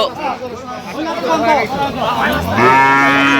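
Dairy cows and calves moo loudly at the Aftabganj cattle market in Dinajpur, one long low moo rising near the end over crowd chatter and someone talking.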